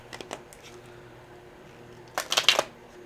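A deck of tarot cards is shuffled close by: a couple of soft flicks early on, a quiet pause, then a brisk, crisp riffle of several rapid papery snaps near the end.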